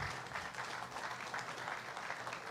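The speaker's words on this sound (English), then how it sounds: "Y'all can clap for that." An audience at a construction milestone event in Queens gives a round of applause for union labor, a dense, even patter of many hands heard from some distance, continuous throughout, with no one speaking.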